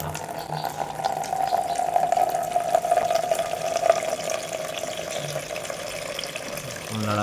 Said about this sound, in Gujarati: પાણી ભરી લેવાનું છે.